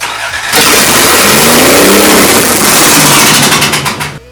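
Swapped 3.0 engine cranking and catching after a short pause, then running loud and rough on five cylinders with an uneven, lumpy roar before cutting off.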